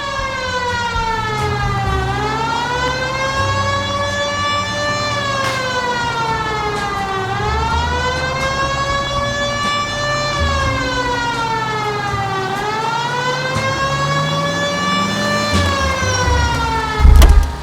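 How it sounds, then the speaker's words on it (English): Police car siren in the video game L.A. Noire, a loud steady wail rising and falling in long slow sweeps, continuous and close with no talking over it. "Cole, turn on the siren and pull her over."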